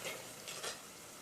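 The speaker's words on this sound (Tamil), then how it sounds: "இப்போ நம்ம புளியை சேர்த்துடலாம்." Tamarind is added to a pot of village-style rasam, giving a short, faint sizzling splash with a couple of soft stirring swishes.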